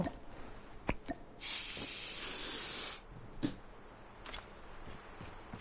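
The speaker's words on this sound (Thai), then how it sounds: "ต้องพ่นสเปรย์เอา" A spray can hisses in a video game with one steady burst of about a second and a half, set among scattered soft clicks and thuds from the game.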